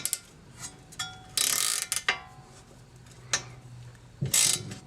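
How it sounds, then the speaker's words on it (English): A 13mm wrench turns rear brake bolts on a VW Passat in short bursts of close, crisp ratcheting clicks separated by quiet pauses. "use a 13mm to unscrew it"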